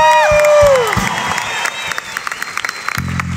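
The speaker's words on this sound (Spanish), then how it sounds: "Un aplauso para Culotauro," An audience at an anniversary improv comedy show applauds and cheers a performer who won a game. Bright electronic tones ring out at first, then scattered claps and crowd noise follow, with a low hum near the end.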